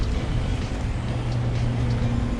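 An Arrma Senton Boost 4x2 RC truck runs at full throttle, giving a steady, loud, close motor whine with a constant pitch and no breaks.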